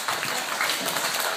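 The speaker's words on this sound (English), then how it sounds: "it's nice to get a clap on your actual birthday" An audience claps for a child's birthday, steady uninterrupted applause from a group heard at moderate distance throughout.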